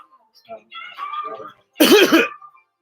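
A single harsh cough burst stands out clearly after some quieter talking, with a couple of rough, throaty pulses.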